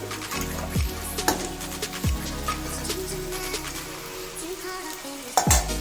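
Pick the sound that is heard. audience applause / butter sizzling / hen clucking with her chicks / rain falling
butter sizzling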